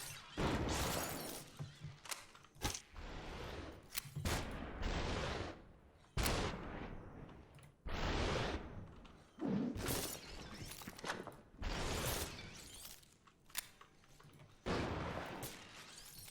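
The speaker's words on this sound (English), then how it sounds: "you can even shoot them in the back if they're not paying attention" In the video game SUPERHOT: Mind Control Delete, repeated gunshots go off while enemies shatter into glassy debris. The crashes come in loud broad bursts separated by short gaps.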